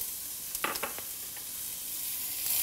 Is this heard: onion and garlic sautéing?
yes